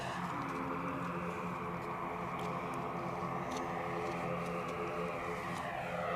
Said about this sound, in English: just about to grace us with a bit of turboprop action